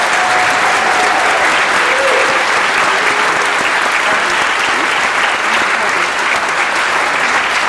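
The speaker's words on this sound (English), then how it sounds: "Can we have a rousing round of applause for Silver Lake" A school audience at Silver Lake Regional High School gives a long, steady round of applause for its hosts, dense clapping throughout with faint crowd murmur and no clear speech.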